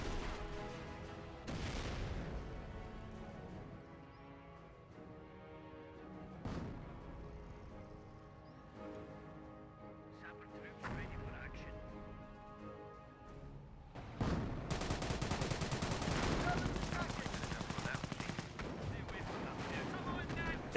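Quad machine gun firing in the Company of Heroes 1 World War II strategy game, with a steady roar of sustained gunfire and heavy booms across a battlefield, growing louder and denser toward the end.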